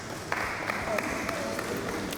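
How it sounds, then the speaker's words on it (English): A group of people at a speed dating event clap together, a steady, fairly loud patter of many hands lasting a couple of seconds. "You're clapping for me, right?"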